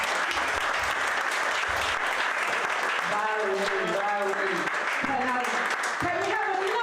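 Audience applause at an evening creative arts event, sustained steady clapping throughout, with a voice speaking over it in the second half.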